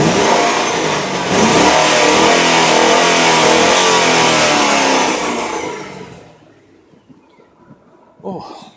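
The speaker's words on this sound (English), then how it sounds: "you're going to be able to take a look and a listen as to what a 6-litre V8 with 360 brake horsepower actually sounds like." Chevrolet Lumina SS with a 6.0-litre 360 hp V8 revving loudly and close for about five seconds, then dropping to a quiet idle followed by a short blip.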